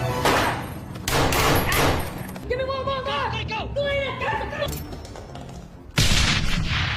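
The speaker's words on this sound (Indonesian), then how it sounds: "Habib yang sedang terpojok pun menembak Chris, lalu Daniel pun menembak Habib." Gunfire from the action film Rogue Warfare, with sharp bursts of shots and thuds mixed into film music and effects, plus a loud hit near the end.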